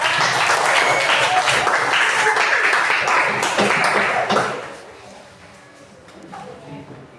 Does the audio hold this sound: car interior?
no